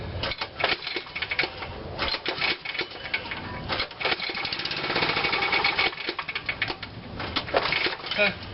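Small lawn equipment engine sputtering and catching briefly as it tries to start during a spring startup, a choppy irregular run of mechanical bursts that keeps dying, with a voice talking over it.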